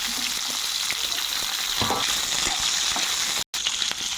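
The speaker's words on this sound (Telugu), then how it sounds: "వీటిని కాసేపు ఇలా మగ్గనివ్వాలి ఆయిల్లో" Curry leaves and green chillies fry in hot oil for a ridge gourd chutney, a loud, dense, steady sizzle with crackling pops and occasional stirring, close up and without talk.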